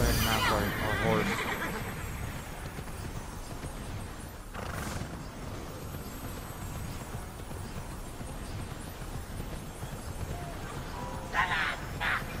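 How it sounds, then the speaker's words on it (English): A horse neighs and whinnies in the fantasy action game Immortals Fenyx Rising, with hoof clip-clops, a steady ambient game bed and some speech over the top. "Go ahead and mount our horse."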